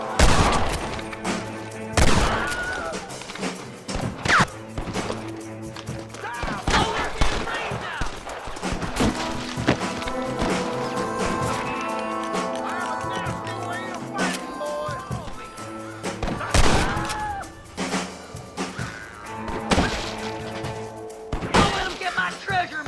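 Gunfire in Red Dead Redemption, repeated loud shots and bursts cracking throughout amid a game soundtrack and horse hooves, with characters shouting and talking over the fight.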